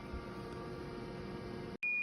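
Oven timer beeping after 20 minutes of baking sourdough bread, a single sharp high electronic tone cutting in near the end over a low steady kitchen hum.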